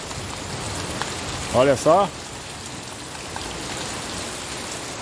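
Steady rain falls on a farm as a constant close hiss, and someone speaks briefly near the start over the downpour.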